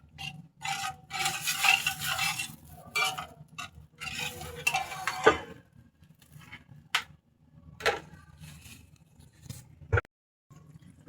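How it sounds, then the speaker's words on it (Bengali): Spice paste stirred and fried in a pan for beef curry with potatoes, a quiet, steady scraping and rubbing of a spatula with occasional sharp knocks against the pan and a low background hum. "মশলাটাকে আমি ভালোভাবে কষিয়ে নিচ্ছি।"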